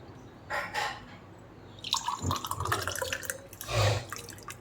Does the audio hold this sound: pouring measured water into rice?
yes